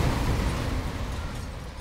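A grenade explosion in the video game Sniper Elite 4 booms loudly at the start, its heavy low rumble decaying gradually over nearly two seconds.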